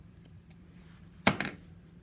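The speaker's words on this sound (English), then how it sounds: "cut my yarn, because now I'm going to change color" Scissors snip through yarn during a crochet granny square project, two quick close cuts in succession against a quiet room.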